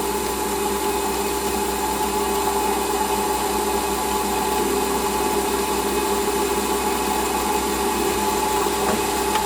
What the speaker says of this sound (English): I need a chamfer on this head now.